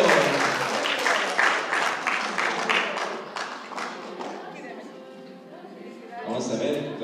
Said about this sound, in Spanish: La madre Julia, un aplauso.